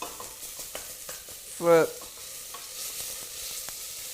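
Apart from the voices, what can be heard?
Thai green curry paste frying in a pan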